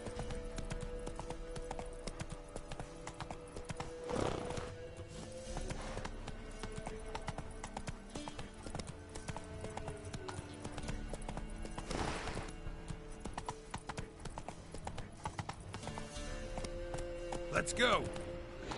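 A horse gallops in a PS4 video game, with steady clip-clop hoofbeats running throughout under game sounds and occasional louder bursts.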